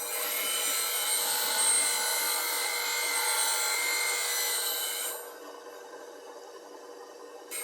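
A bowl gouge bevel is ground on a sharpening wheel to blend it, a steady abrasive hiss for about five seconds before the contact stops and only a quieter motor hum remains.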